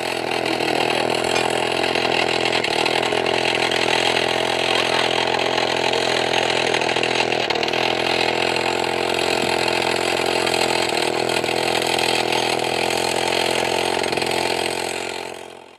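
Rock drill boring into stone for a rock foundation at a roadside construction site, a loud steady mechanical drone with sharp knocking, running continuously before cutting off at the end.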